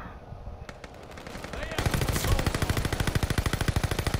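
Rapid incendiary gunfire in Call of Duty: Vanguard, a loud fast stream of shots that starts softer and builds into a dense, evenly spaced automatic burst, with steady action noise beneath.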